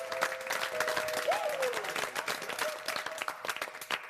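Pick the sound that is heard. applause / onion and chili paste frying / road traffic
applause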